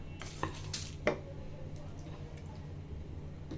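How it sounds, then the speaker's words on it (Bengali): Whole spices for an olive pickle masala are dry-fried and stirred in a pan over medium heat: light scraping and a few sharp clinks of a utensil against metal over a low, steady background hum. "সব মশলা মিডিয়াম জাল রেখে মশলাগুলো মুচমুচে করে ভেজে নিব"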